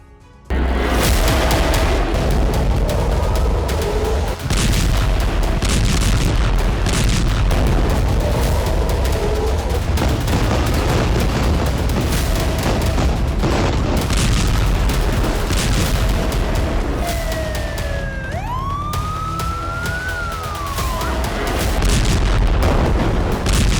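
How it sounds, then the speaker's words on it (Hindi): Heavy Israeli bombardment across Gaza at night, a dense continuous roar of booms and blasts filling the whole span, loud and unbroken, with rising whistling tones near the end. "उत्तरी गाजा से दक्षिणी गाजा तक बीती रात इजरायली सेना की भीषण बमबारी"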